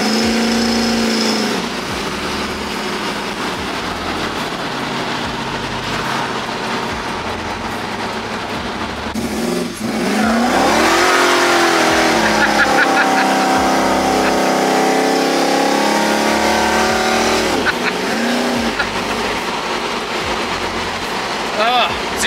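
A Holden HQ Overlander four-wheel-drive ute accelerates hard, its engine revving loud and steady with rising and falling pitch sweeps across the gear changes, while people talk over it.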